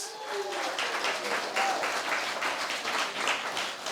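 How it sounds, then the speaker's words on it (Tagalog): A church congregation at a Sunday service claps together, a sustained, fairly loud patter of many hands with voices murmuring and calling out over it. "Itaas ang kamay, pumalakpak ng malakas."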